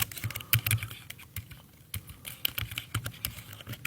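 Quick, irregular bursts of keystrokes on a computer keyboard as a file name is typed in Microsoft Word 2013, close and clear with no talk.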